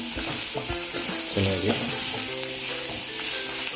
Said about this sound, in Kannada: ಸ್ವಲ್ಪ ಅರಿಶಿನ ಹುಡಿ ಹಾಕಿ ಈರುಳ್ಳಿ ಫ್ರೈ ಆದಮೇಲೆ ಬ್ರೌನಿಶ್ ಆದಮೇಲೆ ಮಿಕ್ಸ್ ಮಾಡಿ